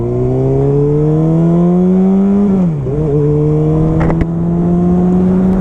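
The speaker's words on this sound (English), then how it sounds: "I can go ahead and give it some gas and let the clutch all the way out." A motorcycle engine pulling away on a hill as the clutch is let out, a loud steady drone rising slowly in pitch, dipping briefly mid-way as revs drop, then climbing again close up.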